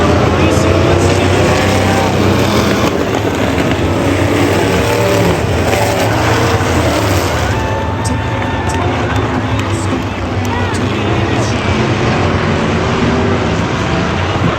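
Race cars roar around the Western Speedway oval after a restart, a loud, continuous engine din with a passing drone, crowd noise and a commentator talking over it.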